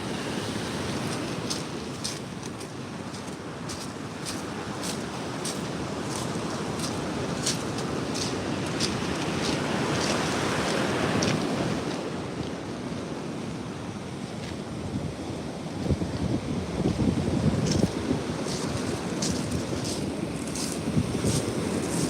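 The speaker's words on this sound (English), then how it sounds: "I just like the sound of the waves crashing." Ocean surf breaking on a beach, a steady roar of crashing waves with gusty wind buffeting the microphone throughout, swelling louder toward the end.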